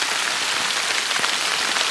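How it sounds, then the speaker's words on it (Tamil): Heavy rain pours steadily outdoors in a village during fish frying, a dense, continuous hiss with no gaps and no voices. "மழை வேற சரியான மழை வந்துருச்சு"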